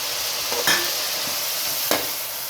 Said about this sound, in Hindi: अब इसमें लहसुन अदरक का पेस्ट डालते हैं।